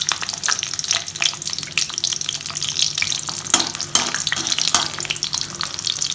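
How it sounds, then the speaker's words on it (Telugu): Dried red chillies and garlic cloves crackle and sizzle in hot oil in a pan, a steady close frying hiss with sharp pops and occasional stirring clatter, no voices. "ఈ ఆయిల్ వేడెక్కిన తర్వాత 2 ఎండుమిరపకాయలు తుంపు వేసుకోవాలి. దాంట్లోనే వెల్లుల్లి రెబ్బలు కూడా యాడ్ చేయాలి."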